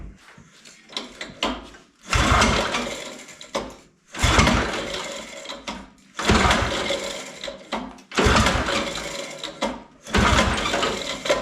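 A snowblower's small engine is cranked repeatedly with the choke out, sputtering and roaring in several short bursts separated by brief pauses, loud and close, with faint clatter between pulls.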